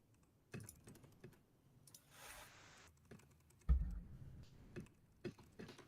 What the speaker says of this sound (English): Can you hear my keyboard?